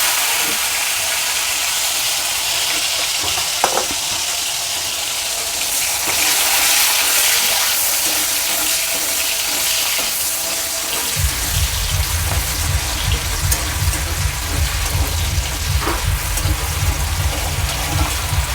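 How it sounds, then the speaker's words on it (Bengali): Cashews and raisins sizzle in hot oil in a pan for Bengali-style fried rice, a loud, steady crackling fry close up, joined about midway by a low rumbling hum beneath the spatter. "এবার কাজু কিশমিশটা একটু ভেজে নেব"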